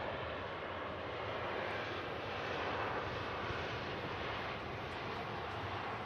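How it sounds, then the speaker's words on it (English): A Virgin Airbus A330 pushes back in a flight simulator game, heard as a constant, dense engine roar that stays even and steady with no talk. "we've also got the Q8 330 pushing back as well"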